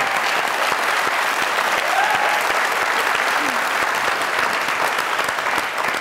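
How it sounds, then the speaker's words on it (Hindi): A studio audience at a comedy talk show claps loudly and continuously, a dense, even wash of applause lasting the whole stretch. "जोरदार तालियां।"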